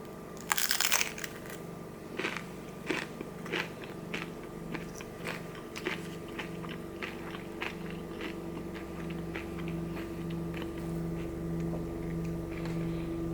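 Close crunching and chewing of Jack in the Box tacos dressed with hot sauce, with a run of sharp, irregular crunches that begin loud and settle into steady munching over a constant background hum.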